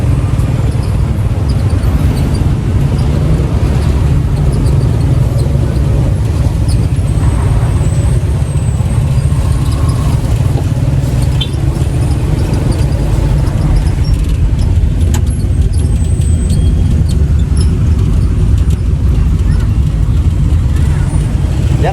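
Heavy bumper-to-bumper road traffic near SM City Consolacion, a constant low rumble of engines and idling vehicles close by, with occasional brake hisses and faint horn-like tones, steady and loud throughout.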